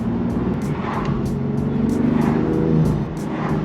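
BMW M2 Competition on the move, a steady engine drone heard from inside the cabin with a droning mid-range note and repeated short bursts of higher noise, fairly quiet and continuous, with no voices.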